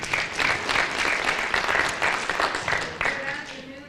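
An audience at a criminal justice summit candidates forum claps steadily for a few seconds, a full, even round of applause that thins out near the end as a voice starts over it.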